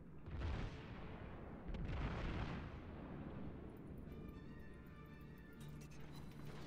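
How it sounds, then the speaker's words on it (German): Heavy naval guns fire in World of Warships, with booming broadside blasts near the start and around the two-second mark, then a rolling low rumble and distant battle noise continuing underneath. "Und jetzt wird auf die Miyoko geschossen."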